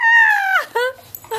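A puppy lets out a drawn-out high whimpering whine that slides downward, followed by a couple of shorter whiny yips, close and fairly loud in an otherwise quiet space.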